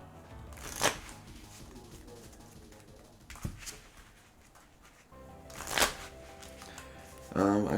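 A deck of Pokemon trading cards is riffled in two quick bursts, close and crisp, with a quiet pause between and a voice starting at the end.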